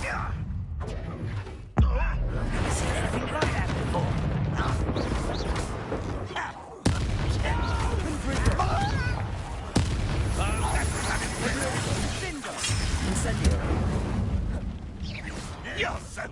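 Blasting spell explosions and combat in the Hogwarts Legacy video game, a series of loud booms and bursts under dense game sound, with voices talking between the blasts.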